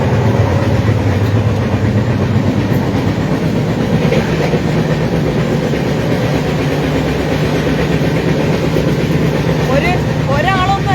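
A crowded passenger train runs on, heard from inside the coach as a loud, continuous rumble and rattle of wheels on track, with people talking faintly underneath throughout.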